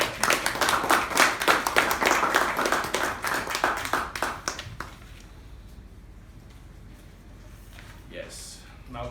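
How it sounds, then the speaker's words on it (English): Toastmasters meeting audience applauding, a dense burst of many hands clapping for about five seconds that then fades out, leaving quiet room tone with a few faint stray sounds. "can we have a huge round of applause for Toastmasters?"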